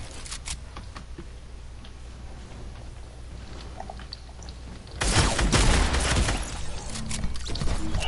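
Gunfire in the Fortnite video game: scattered faint shots at first, then a sudden loud flurry of close, rapid shots that keeps going to the end.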